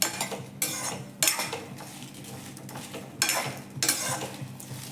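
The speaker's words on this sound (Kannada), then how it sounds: "ಎಲ್ಲ ಚೆನ್ನಾಗಿ ಫ್ರೈ ಮಾಡ್ಕೋಬೇಕು" Country chicken frying in a little oil for a rustic sambar, with loud bursts of sizzling and metal spoon scraping against the pan in uneven waves, close up and without voices.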